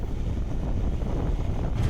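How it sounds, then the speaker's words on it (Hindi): Cold wind buffets a microphone on a motorcycle climbing the high-altitude road toward Khardung La pass in Ladakh, a steady, loud roaring rumble with no speech. "जैसे जैसे मैं ऊपर चढ़ रहा हूँ ठंडी हवाओं का सामना मुझे करना पड़ रहा है"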